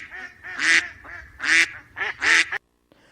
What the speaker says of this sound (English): That's right, it's a duck.